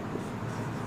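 Marker or chalk scratches steadily across a board while a free body diagram is written during a physics lesson, a continuous soft rubbing stroke heard close and alone.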